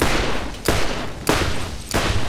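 Auto turret on a ship firing in the Borderlands video game, sustained loud bursts of rapid gunfire with three sharp onsets, dense and continuous, close and without talk.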